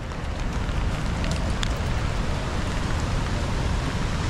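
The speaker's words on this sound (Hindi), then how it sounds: "बाहर भी बारिश तो रुक नहीं रही है।" Steady monsoon rain falling outdoors in Kasol, a dense continuous hiss with no voices, close and fairly loud throughout.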